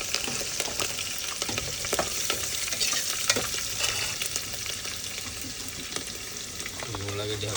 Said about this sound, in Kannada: ಉಳ್ಳಾಗಡ್ಡಿ ಹಾಕ್ಕೊಂಡು ಈಗ ಈ ಫುಲ್ ರೋಸ್ಟ್ ಮಾಡ್ತಾನೆ